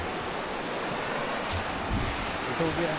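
Sea waves wash onto Kolthare beach in a continuous soft roar, with wind rumbling over the microphone. The sound is fairly faint and steady.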